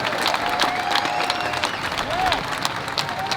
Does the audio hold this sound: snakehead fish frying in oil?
no